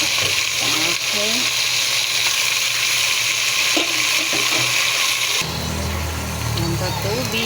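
Tap water runs steadily into a pot for sinigang na bangus, a loud and continuous rushing that shifts in tone partway through, with faint voices and kitchen noises beneath it.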